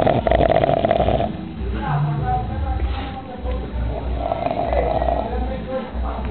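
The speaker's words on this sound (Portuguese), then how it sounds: "Só quem ronca desse jeito é quem tem adenoide." A woman snores loudly, giving repeated rasping, throaty breaths in a slow rhythm. Her snoring is close and prominent, and a voice is heard alongside it.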